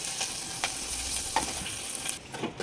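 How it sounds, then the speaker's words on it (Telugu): Spices tempering in hot oil for a mint and tomato chutney, with a low continuous sizzle broken by several brief crackles and stirring scrapes, heard close up. "ఇప్పుడు తాలింపు వేసుకోవాలి."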